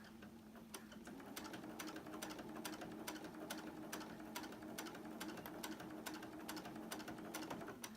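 A sewing machine stitches steadily around a quilt border, a fast even mechanical clatter with regular ticking needle strokes, close but fairly quiet, running alone without any voices.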